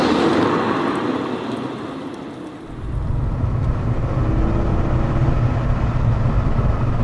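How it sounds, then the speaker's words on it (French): Ford Mondeo ST220 with a rusted exhaust, its engine running with a low steady drone that dips briefly and then settles into a deeper, louder rumble, heard up close with no talking. "Le son est pas dégueu de cette voiture."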